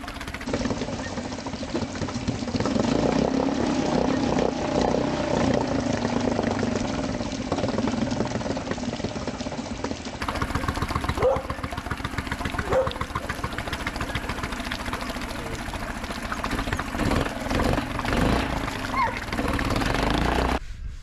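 A Suzuki 2.5 hp four-stroke outboard motor runs steadily close by, a loud, continuous buzzing drone with a slightly uneven, lumpy beat as it struggles on its fuel mixture; no talk.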